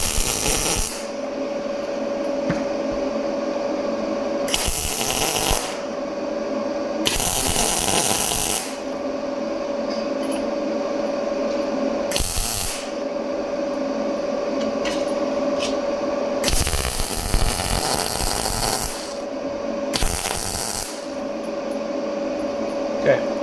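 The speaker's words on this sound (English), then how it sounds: "bend it tight and weld the inside shut" A welder runs short, crackling bursts along the inside seam of a widebody fender being built for a 1987 Trans Am. Several separate bursts of a second or two each sit over a steady shop hum, with quiet gaps between them.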